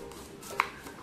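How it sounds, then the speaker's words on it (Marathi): A kitchen knife cuts onion and tomato in a home kitchen, giving a single soft chop against a quiet background. "आता मी कांदा टोमॅटो कापून घेत आहे."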